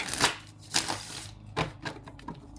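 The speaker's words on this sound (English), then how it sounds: "I like to shuffle the cards 3 times" A tarot card deck is shuffled by hand in several short riffling bursts with pauses between, the crisp papery flutters close and moderately loud.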